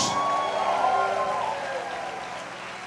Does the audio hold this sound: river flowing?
no